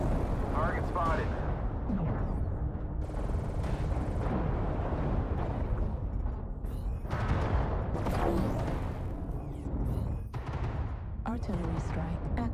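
Artillery strike explosions and gunfire from a video game, with dense continuous booms and bursts of shots throughout, loud and layered over game music and effects, with voice lines in the mix.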